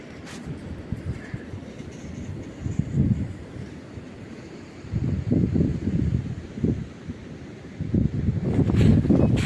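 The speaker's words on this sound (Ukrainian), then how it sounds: "Сонце, але вітер сильний" Strong wind buffets the microphone in rumbling gusts that swell and fade, loudest toward the end.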